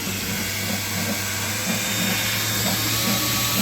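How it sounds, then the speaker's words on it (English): A pump draws oil out of a boat's engine, producing a steady, continuous mechanical whir and hum with low rumbling tones that holds even throughout, with no talking. "we got the oil pumping out"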